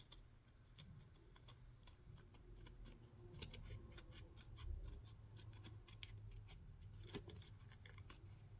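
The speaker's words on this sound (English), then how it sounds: "Notice how I just turned the paper and not my scissors." Scissors snip through paper for a candy treat basket, a quiet, close run of crisp little cuts over low background hum.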